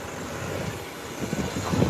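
Small airplane taking off or landing, a steady low engine drone at a distance that grows slightly louder toward the end, continuous with no talk.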